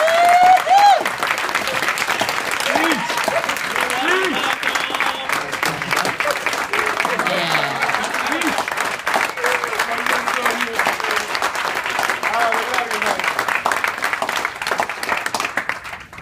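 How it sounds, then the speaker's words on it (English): Sustained audience applause at an alumni dinner for a man named Mike, a steady wash of many hands clapping for about sixteen seconds, with scattered cheers and voices mixed in throughout before it thins out at the end. "Let's all give Mike a round of applause"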